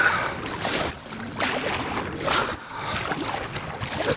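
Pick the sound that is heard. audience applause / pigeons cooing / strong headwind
strong headwind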